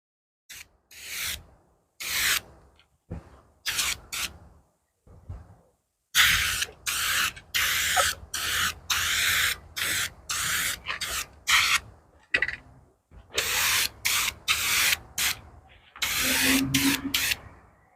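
Repeated hissing bursts of black spray paint from an aerosol can, applied while replacing tail lights on a vehicle build, come in short and long sprays close to the can, some runs nearly continuous.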